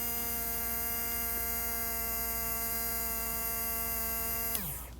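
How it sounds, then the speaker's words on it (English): A small watering-system motor runs with a steady electrical hum and stacked tonal drone, then winds down near the end as the pitch drops away. "So the motor turns on, the light turns on, which is very expected."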